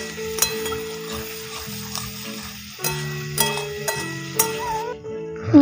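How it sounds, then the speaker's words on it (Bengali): Potatoes and eggplant frying in a pan, with steady sizzling and a few sharp clinks and scrapes of the spoon stirring them, close and moderately loud with no talking. "মা এবার আলু বেগুনটাকে হালকা করে ভেজে নিচ্ছে।"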